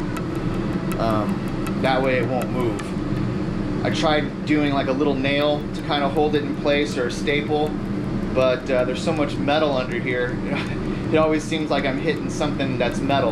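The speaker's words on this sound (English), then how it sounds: "Sorry about the noise. I actually have the air conditioner running today." An air conditioner runs steadily inside an RV during a bedroom floor renovation, a constant mid-level hum beneath continuous close-up speech from a person talking throughout.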